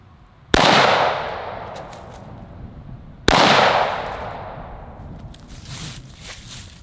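Two sharp, loud gunshots fired about five yards from a polyethylene body armor plate, spaced roughly three seconds apart, each followed by a long ringing decay with faint clatter afterward.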